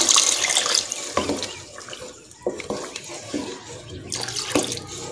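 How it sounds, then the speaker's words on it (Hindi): Water runs and splashes into a pan of kofta curry masala, about a cup poured in steady bursts with a few breaks and clinks, close and fairly loud. "अब हम इसमें तकरीबन 1 कप पानी का डालेंगे।"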